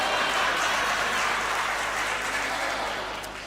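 Audience clapping at a Hindi comic poetry recitation, a broad, steady wash of applause from the crowd that slowly fades toward the end.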